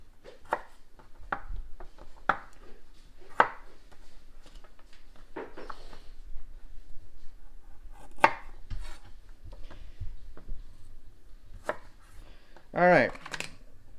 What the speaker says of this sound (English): so too much peel there, we'll just cut it out.